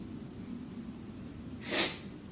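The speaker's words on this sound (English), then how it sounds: "I even got a sniffle in" A single short nasal sniffle, a quick breathy burst rising over a low steady room hum, close to the mic and alone without speech.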